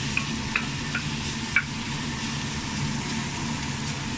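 Garlic and onion frying in cooking oil in a home kitchen, a steady close sizzle with a few small pops and faint clinks scattered through it, no voices.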